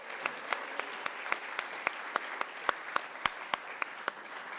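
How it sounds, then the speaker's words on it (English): Audience applause at a peace conference keynote session, a moderate room-wide clapping with distinct sharp claps standing out, steady and fairly close, no talk over it. "Let's give a round of applause to all the women here."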